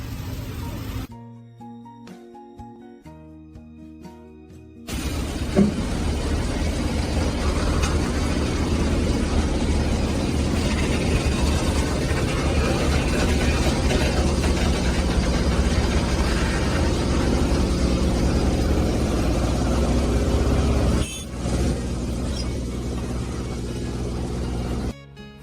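A crawler crane's heavy diesel engine starts a few seconds in and then runs with a steady, loud mechanical drone and slight revving during a 900-ton dual-crane heavy lift, with a short dip near the end.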